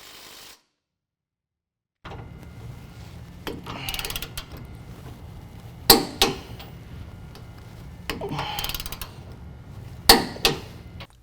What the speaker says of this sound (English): now we're going to tighten down our rear crossmember bolts that hold on our differential support plate to 95 foot-pounds